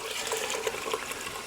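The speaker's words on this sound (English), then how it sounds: "that's how you know you're washing the rice." Rice being washed by hand in a bowl of water, a soft continuous sloshing and swishing as the grains are stirred, steady and fairly quiet with no talking.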